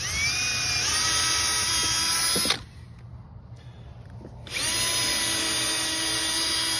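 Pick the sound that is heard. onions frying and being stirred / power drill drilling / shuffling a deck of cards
power drill drilling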